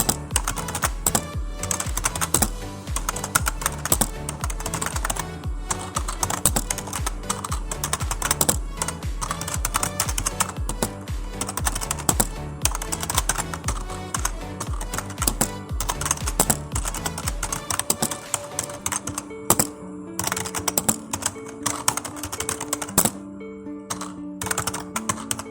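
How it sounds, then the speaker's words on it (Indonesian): Typing on an Imperion Sledgehammer 7 TKL RGB gaming keyboard: rapid, dense clacking keystrokes close up, continuous for most of the stretch before slowing into sparser presses. "berikut ini adalah suara yang dihasilkan oleh keyboard ini."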